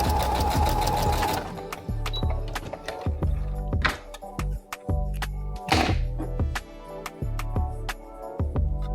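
Sewing machine stitching stretch fabric in a zigzag stitch, running in a steady rapid mechanical chatter with repeated heavier thunks as the needle and fabric shift, close and fairly loud with no talking.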